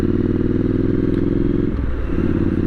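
A Triumph Street Scrambler 900 motorcycle being ridden, its engine a loud, steady, pulsing low rumble close to the microphone, with a brief shift in tone partway through.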